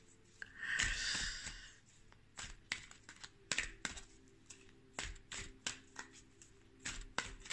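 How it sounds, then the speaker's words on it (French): Oracle cards being shuffled and drawn: a soft flurry of riffling paper up close, then scattered light taps and slides of card on card. "on va tirer une petite carte de la sagesse de l'oracle"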